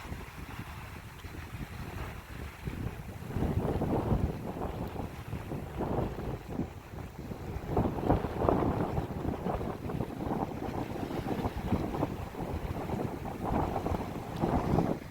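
Gusty wind buffets the microphone on a lake shore, a steady low rumble with stronger surges that come and go, with possible faint lapping water underneath and no talking.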